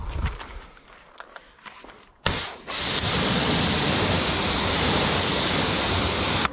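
Water sprayed onto car wheels protected by a Neoxal coating: after a few quiet handling knocks, a loud, steady rushing hiss of spray starts abruptly and continues without letup, close by.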